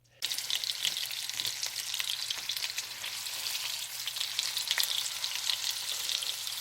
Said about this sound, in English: basically sear it on all sides, including its sides